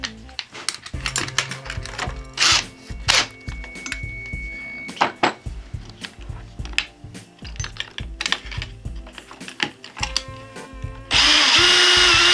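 A Makita power drill whirs in short bursts while working on a brake master cylinder and booster upgrade, starting and stopping repeatedly at close range, with a longer, steadier high-pitched run near the end.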